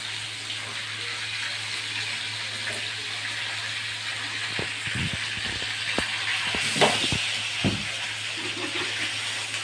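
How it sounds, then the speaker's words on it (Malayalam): Fish frying in hot oil in a pan, with a steady hiss and a few sharper crackles and pops of splattering oil, heard up close with no talk. "ഞാൻ പറഞ്ഞില്ലേ ഇച്ചിരി എണ്ണ തെറിക്കുമായിരിക്കും,"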